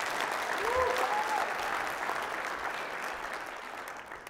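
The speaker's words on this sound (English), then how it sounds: "let me get a clap if that's you, if you don't mind." Sustained applause from a keynote audience at an Extreme Freedom real estate wholesaling event, dense and steady for over four seconds, fading only slightly toward the end, with a brief voice-like tone early on.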